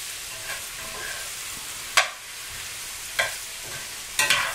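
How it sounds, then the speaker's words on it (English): Wax beans sizzle steadily in a hot pan, a continuous close hiss broken by a few sharper crackling bursts, with no talking. "You hear that sizzling? All that is flavor and just sizzling and binding up together"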